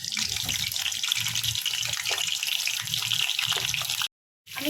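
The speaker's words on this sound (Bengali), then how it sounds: "তেলটি আমার গরম হয়ে গেছে। এরপর পটলগুলি দিয়ে দেবো।" Pointed gourds (potol) sizzle as they go into hot frying oil, a steady broadband hiss with a brief silent gap near the end before the sizzling resumes.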